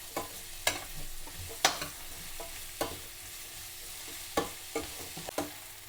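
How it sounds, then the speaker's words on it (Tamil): Onions with salt sautéing in a pan, a low steady sizzle punctuated by sharp spatula scrapes and knocks against the pan at irregular intervals, quiet and close with no talking. "கொஞ்சம் வெங்காயம் கொஞ்சம் நல்லா வதங்கட்டு"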